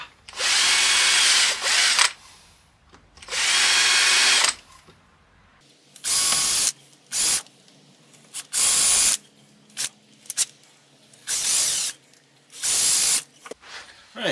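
A power drill bores a series of small holes in a handmade cane. It comes in roughly eight sharp, loud whirring bursts of varying length, separated by short quiet gaps, with no talking.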